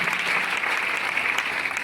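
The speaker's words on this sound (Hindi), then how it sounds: "जोरदार ताली" A crowd at a business training meeting bursts into loud, sustained applause. The clapping is dense and steady, running the whole time without a break, and nobody speaks over it.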